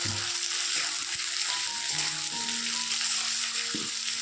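Potatoes and tomatoes frying in a pan give a steady, close hiss of sizzling oil with a few faint clinks, and nobody talks throughout.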